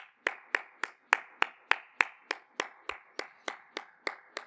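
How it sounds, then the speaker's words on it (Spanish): Rhythmic clapping from a church congregation at a Sunday morning service, steady evenly spaced claps at a brisk tempo, fairly close and clear with no talking over it. "Démosle un aplauso a nuestro Dios,"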